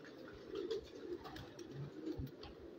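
Pigeons coo softly in low, rolling phrases at a pigeon show, a few murmuring calls sitting quietly in the background with no speech over them.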